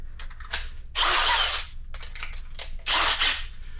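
A power drill fitted with a drill bit bites into car spot welds in two short, loud bursts, separated by quieter clicks and handling noise, with no talking.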